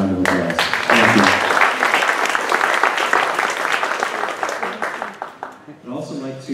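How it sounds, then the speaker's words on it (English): A round of applause for the team at a New York City Council Member's community forum on super-scrapers, a fairly loud burst of clapping that fades toward the end, with voices mixed in. "if we could just give the team one round of applause"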